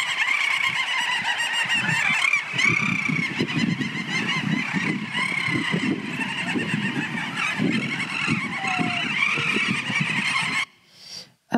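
A large colony of little auks in East Greenland calls in a dense, continuous chorus of overlapping chattering and trilling cries, loud and close, before cutting off abruptly near the end.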